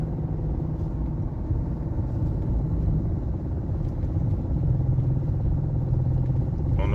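Low, steady engine rumble from a Dodge Charger R/T with a suspected transmission problem and a blower, running continuously and fairly loud without a break for several seconds, with no talking over it.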